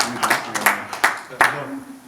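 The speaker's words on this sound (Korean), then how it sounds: "박수 한번 쳐주세요." An audience claps sparsely in a few distinct bursts of hands at a gathering on the site of a planned K-pop Motors showroom in Cheonan, with speech mixed in among the claps.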